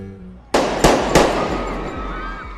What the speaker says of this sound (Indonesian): Kemudian secara tiba-tiba, Jian menembakkan pistolnya ke udara.